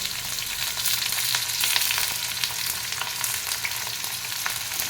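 Chopped onions sauté in hot oil for rava upma, giving a steady, close, even sizzle and crackle that lasts throughout, with a few faint stirring taps and no voices.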